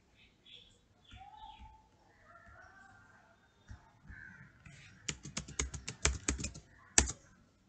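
A computer keyboard clatters in a quick burst of keystrokes while someone logs into SAP, close but fairly quiet, following a stretch of faint chirping birds in the background.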